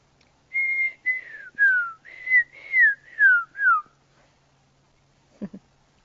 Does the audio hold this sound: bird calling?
yes